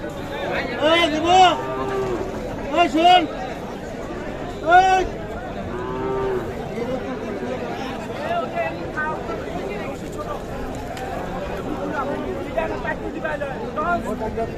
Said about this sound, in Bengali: দেখছেন এই সাইজের বিগ বিগ গরু কিন্তু